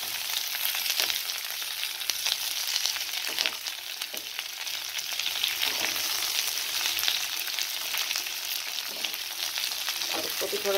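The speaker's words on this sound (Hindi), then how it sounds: "तो शिमला मिर्च को थोड़ा सा पहले हल्का सा इसको भी सॉफ्ट होने दीजिए।" Bell pepper pieces fry in a pan on a gas stove turned to low flame, giving a constant bright sizzle with occasional faint stirring clicks, close and unbroken, with no talking.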